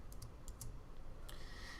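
Keyboard shortcut keys pressed on a computer keyboard while using a Miiverse post selection tool, a few quick clicks near the start and another around the middle, close and fairly quiet over steady background hiss.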